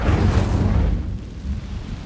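A fire spell explosion in Hogwarts Legacy, a deep roaring whoosh and rumble that hits loud at once, then fades slowly over about two seconds.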